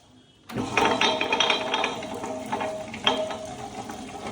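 A motorized wet grinder starts abruptly and churns soaked fenugreek seeds in their soaking water, a dense wet whirring and swishing that continues without pause.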